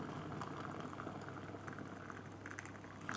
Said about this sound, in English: some boiling water